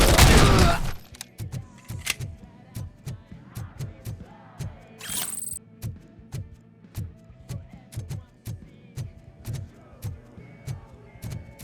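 Rapid gunfire rings out in the video game Robocop: Rogue City. A loud burst opens, then sharp shots repeat in a steady, evenly spaced rhythm, roughly two per second, with some extra clatter between them.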